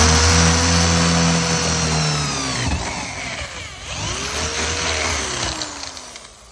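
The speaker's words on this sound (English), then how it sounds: "put this drill through here like that. Straight down through the floor." A drill grinding straight down through the metal floor of a Camaro during a seat swap, a loud, close whine with shifting pitch that bogs and dips as the bit bites, then picks back up and trails off.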